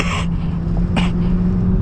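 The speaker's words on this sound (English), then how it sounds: "Sorry, that was a nasty cough." A single short cough bursts out near the start, then a second brief one follows about a second later, set against a steady low car engine hum.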